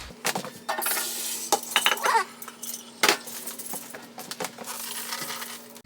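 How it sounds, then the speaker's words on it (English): Sunflower seeds from a harvest of mammoth sunflowers pour into a colander in uneven bursts, a hard rattling patter of small seeds with a few clinks against the metal, close up and with no voices. "So I'm going to dump them in a colander"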